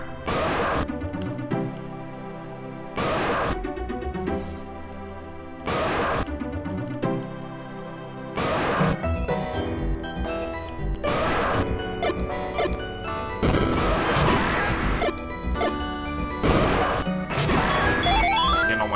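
Bombs blow up in the Zelda Classic quest Shadow Wars: repeated sharp crashing bursts, several of them, punctuate steady electronic game music throughout.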